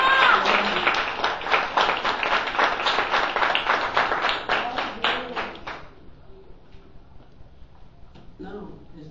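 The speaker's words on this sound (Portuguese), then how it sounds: "Você pode aplaudir o Senhor por isso?" Church congregation applauding during a sermon, brisk rhythmic clapping for about six seconds that then dies away, followed by faint voices.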